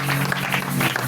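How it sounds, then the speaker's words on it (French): A church congregation bursts into loud, dense applause and cheering for a brief moment, the clapping filling the room evenly. "Acclame très fort pour le roi de roi."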